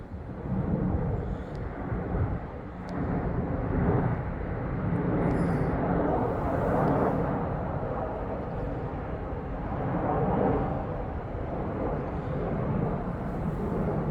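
An airplane on the Leeds Bradford Airport flight path passes overhead as a steady, broad low rumble that swells and holds through the whole stretch, with no voices.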